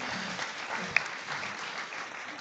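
Audience at a book launch reading applauding steadily throughout, a dense even patter of many hands clapping with one sharper clap standing out near the middle.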